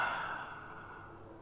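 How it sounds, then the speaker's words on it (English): A person breathing out during a guided breathing exercise, a single soft, airy exhale that starts fairly strong and slowly tapers over about a second and a half, close and breathy with no talk. "And breathe out."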